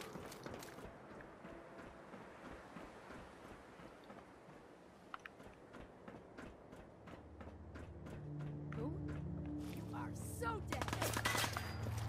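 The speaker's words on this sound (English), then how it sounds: "we're gonna get out our submachine gun. I'm gonna equip it." A submachine gun fires in Fallout 4, with rapid, dense bursts of shots rattling on for several seconds before a low rumbling hum and scattered clatter take over.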